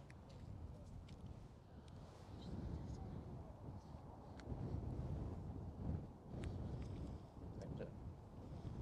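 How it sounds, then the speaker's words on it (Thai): Strong wind buffets the microphone outdoors at the St Andrews golf course during a women's professional tournament, a constant low rumbling gusting roar with someone talking quietly beneath it. "ลมค่อนข้างแรงนะคะ"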